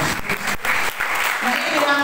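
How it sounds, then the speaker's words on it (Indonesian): Church congregation applauding after a call during a sermon, a dense wash of clapping mixed with voices and shouts throughout, fairly loud and close. "Beri tepuk tangan"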